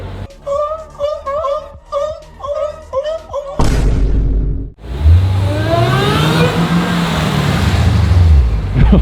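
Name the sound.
supercar driving past in Zurich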